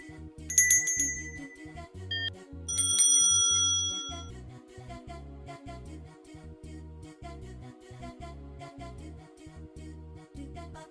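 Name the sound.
bell sound effect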